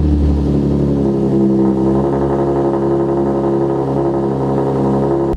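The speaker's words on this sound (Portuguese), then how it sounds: "a gente vai apavorar na cidade com o ronco do carro." A car with a new aftermarket exhaust rumbles steadily at idle, a deep continuous drone that holds loud and close for several seconds.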